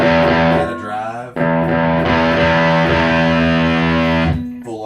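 Heavily distorted electric guitar chords through a Line 6 POD Express at full distortion ring out loud and sustained, with a brief break before the next crunchy chord is struck.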